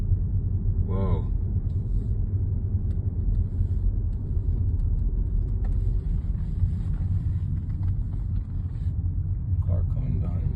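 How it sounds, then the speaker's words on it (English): A car rolls along a highway in British Columbia, Canada, its steady low road rumble and wind noise filling the whole stretch, with a brief tonal blip early on and faint scattered sounds above. "Car coming down."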